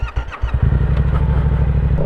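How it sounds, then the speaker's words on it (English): A Yamaha R7 motorcycle fitted with a Yoshimura R-77 track-only exhaust revs close by, with a couple of quick throttle blips before it settles into a steady, deep, pulsing rumble. "Hopefully you enjoyed the new exhaust on the bike."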